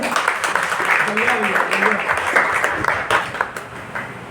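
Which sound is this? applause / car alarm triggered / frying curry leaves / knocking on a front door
applause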